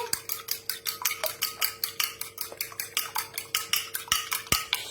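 Whisk or spoon scraping rhythmically against a bowl while mixing eggs and cream for a northern French sugar tart, a steady fast series of close clinking strokes, about four per second, with no talk.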